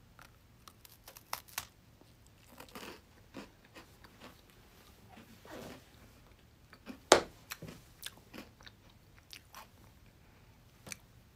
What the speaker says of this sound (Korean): 과자 먹방.